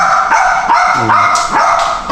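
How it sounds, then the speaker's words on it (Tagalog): A dog barks and yips repeatedly at a family outing, several quick close barks over a steady background of crowd noise. "At yung nag-birthday na aso, panay ingay."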